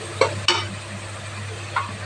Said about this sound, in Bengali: তো ভালো করে মশলাটা ভেজে নেবে।